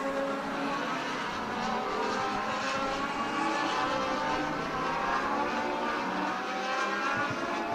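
Stock cars in a heat race at Stockton 99 Speedway roar past in a continuous, loud engine drone that swells and fades slightly as they circle the track, with no talking.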